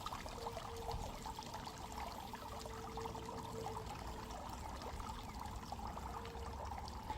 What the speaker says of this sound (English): Let it drain out the water over here at the pool.